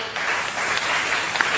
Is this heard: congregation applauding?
yes